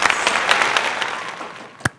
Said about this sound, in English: Go grab a drink, go cheer, go celebrate, and a big round of applause.